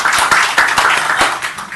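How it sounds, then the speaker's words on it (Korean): Applause from staff gathered at a Hanam city officials' meeting, a dense burst of many hands clapping close by, steady for a moment and then easing off slightly toward the end. "박수 한번 부탁드리겠습니다"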